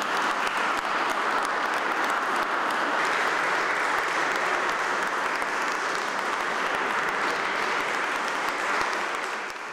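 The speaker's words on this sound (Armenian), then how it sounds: "ծափերը խլացրեցին ասելիքը" An audience at a presidential annual award ceremony applauds in a full, sustained wave of dense clapping that holds at an even, loud level for about ten seconds, then eases slightly at the end.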